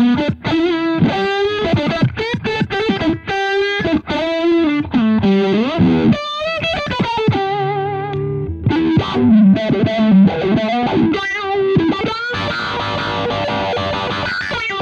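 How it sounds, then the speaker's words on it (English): Loud, heavily distorted electric guitar plays a continuous run of chords and riffs, thick and saturated, with no voices. "Let's turn that distortion off and use the distortion on this guitar now"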